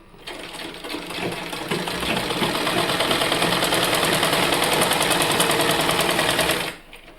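A sewing machine runs a continuous seam on a child's cap of warm cloth, its fast even rattle rising quickly, holding steady for several seconds, then stopping abruptly.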